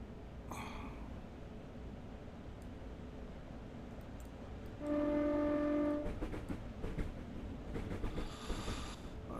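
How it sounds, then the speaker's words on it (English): Overhead-wire electric train in a video game: a steady low running rumble, then a loud two-tone horn held for about a second, followed by rattling and clatter. "Let's have an external view of the train."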